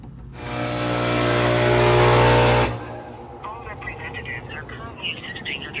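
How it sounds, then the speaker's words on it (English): A Carrier Infinity AC compressor struggles to start, giving a loud, strained mechanical hum and buzz that lasts about two seconds and then cuts off abruptly, followed by quieter background noise. "compressor is not starting, and that sounded pretty bad"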